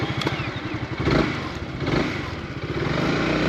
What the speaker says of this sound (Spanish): Se ha apagado la moto, una cosa muy extraña.